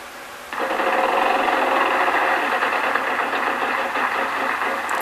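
In the PlayStation game Wheel of Fortune 2nd Edition, the wheel spin starts abruptly and holds as a steady, loud, buzzing whir with a faint rapid ticking texture, lasting several seconds without speech.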